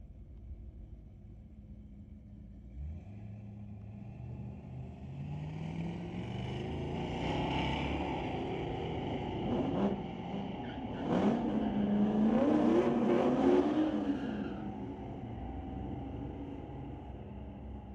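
A 1967 Ford Mustang and a Dodge Charger drag racing at Mission Raceway Park, engines rumbling low, then rising into loud revving acceleration that swells and fades into the distance.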